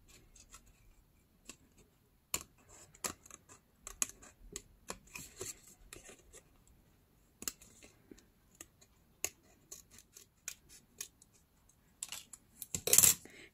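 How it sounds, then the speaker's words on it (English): Scissors fussy-cutting paper close up for specimen slides, a quiet scatter of irregular snips and clicks with pauses between, ending in a louder cluster of cuts. "with scissors, I'm gonna fussy cut out all that rest."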